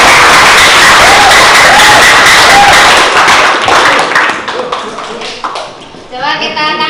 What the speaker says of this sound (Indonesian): coba kita untuk biar semangat kasih aplaus